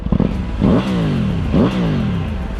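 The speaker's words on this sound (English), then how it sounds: "the exhaust sounds pretty wicked, as you can hear it" A Triumph Tiger 900 Rally Pro motorcycle idles with a rough, throaty exhaust burble, revving up twice in quick swells before dropping back to idle, loud and close.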